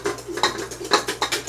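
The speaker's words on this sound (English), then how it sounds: "I'm going to put in the dry and just start whisking it in till it's all combined" A whisk scraping and tapping against a bowl as dry ingredients are folded into chocolate cherry muffin batter, a quick, uneven rhythm of clinks and swishes close by, with no talking.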